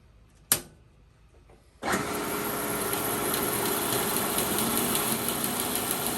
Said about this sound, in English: Turn on the saw, push in just a little bit.